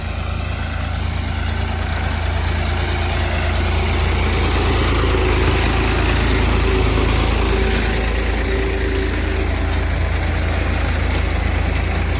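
A tractor engine runs steadily nearby in a village field during the potato harvest in Gujarat, a continuous low rumble that holds loud and even throughout.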